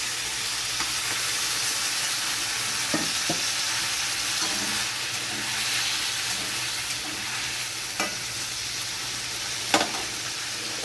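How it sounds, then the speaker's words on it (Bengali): Chopped ripe tomatoes fry in a pan with a steady, loud sizzle throughout, broken by occasional scrapes and light knocks of a spoon as they are stirred. "পাকা টমেটো কুচি করে দিয়ে দিয়েছি। ভালোভাবে আমি মিশিয়ে নেব।"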